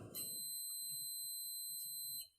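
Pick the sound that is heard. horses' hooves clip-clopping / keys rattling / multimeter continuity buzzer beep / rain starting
multimeter continuity buzzer beep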